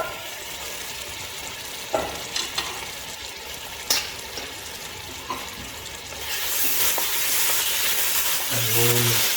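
Mutton frying in a pan with julienned ginger, a steady sizzle with a few knocks and clinks of stirring, growing into a louder, fuller hiss near the end, with no talking.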